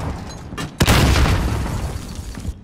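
Grenade blast in a video game, a single sudden loud boom after a short quieter lead-in, followed by a long crackling rumble that slowly fades.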